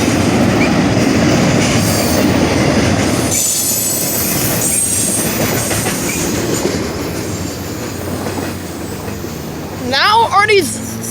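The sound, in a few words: passing train with squealing wheels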